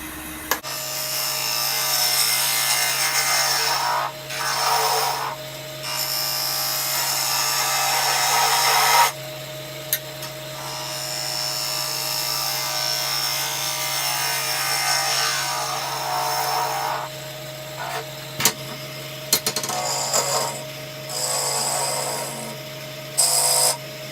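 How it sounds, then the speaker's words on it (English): Spindle gouge cutting wood on a lathe while turning a ring holder, a steady close rasping hiss with a constant motor hum beneath, dipping briefly at a few points between cuts. "Now I'm going to switch over to my spindle gouge to refine the shape."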